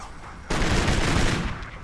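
Dense, continuous gunfire in the shooter game Kane & Lynch: Dead Men erupts abruptly after a half-second lull and keeps up as a loud, overlapping volley of rapid shots for more than a second.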